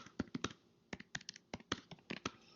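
Typing on a computer keyboard, a close, quiet run of irregular clicks and key taps in quick bursts with brief pauses between them.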